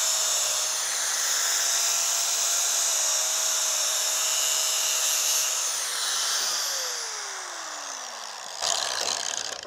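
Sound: angle grinder with cutoff disc cutting tractor PTO shroud

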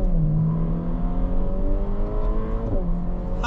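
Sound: Ferrari Portofino accelerating

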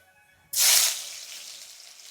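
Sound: mustard seeds, ginger and garlic sizzling in hot oil

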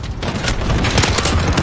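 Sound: gunshots in the video game Call of Duty: Modern Warfare

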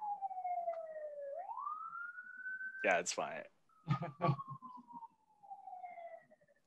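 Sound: emergency siren outside

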